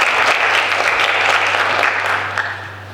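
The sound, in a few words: audience applause at a pageant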